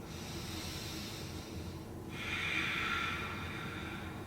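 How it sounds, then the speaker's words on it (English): Deep breathing during a yoga sun salutation, a steady close airy breath that swells into a louder, hissing exhale midway through, with no talking over it. "Breathing nice and deep."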